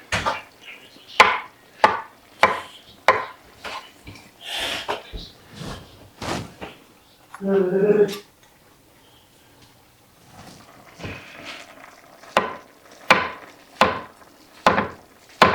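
Mushrooms sliced with a knife on a cutting board for a weeknight casserole, a run of crisp, evenly paced chops, close and clear, with a short pause in the middle.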